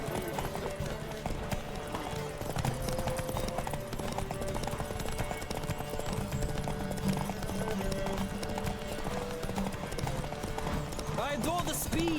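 A horse gallops in rhythmic clip-clop hoofbeats during a race in The Witcher 3: Wild Hunt. The hooves run steadily under game music and background noise, with a voice speaking at points.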